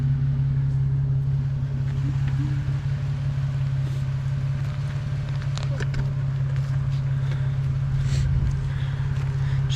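An off-road vehicle out wheeling, its engine giving a steady, close droning hum with a low tonal note, joined by scattered rattles and knocks.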